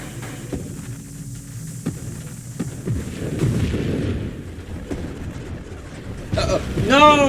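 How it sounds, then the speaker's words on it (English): Heavy booming blasts and rumbling explosions roll through a noisy, chaotic game scene, with sharp bursts and a whooshing sweep near the end. "those bomb explosions got me"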